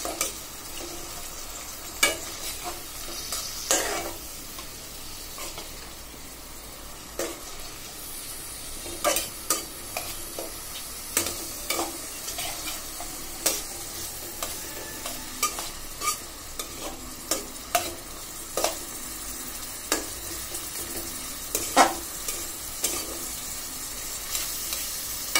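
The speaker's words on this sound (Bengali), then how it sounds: "আমার লাউয়ের পেঁয়াজ, রসুন, কাঁচামরিচ, চিংড়ি মাছ সব তেলে দিয়ে দিলাম" Onion, garlic, green chilli and shrimp frying in oil for a bottle gourd dish, a constant near sizzle punctuated by repeated scraping and knocking strokes of a spoon against the pan, no speech.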